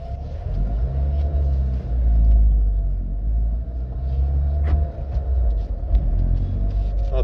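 A cheap Renault convertible rolls along a road in summer, its engine and tyre rumble steady and close, swelling slightly mid-way with no talking.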